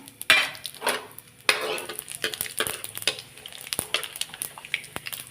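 Whole spices (cinnamon, cumin, carom and fennel seeds) drop into hot mustard oil for moong sabzi, giving a soft sizzle under repeated sharp metal spoon clinks and scraping stirs against the pan, close and fairly quiet.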